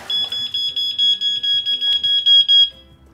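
A sump pump alarm beeps in a rapid repeating pattern of shrill, loud electronic tones, about a dozen pulses before it stops, close by with no talk.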